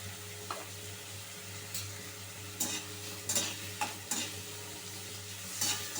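Onions fried in oil over a high gas flame until brown, for a fish biryani: a steady soft sizzle with several brief stirring scrapes of a spoon in the pan, close by and fairly quiet, with no voices.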